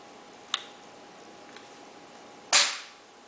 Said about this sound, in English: as you close up the action on this gun, you're going to hear the lifter basically goes down a bit and releases the shell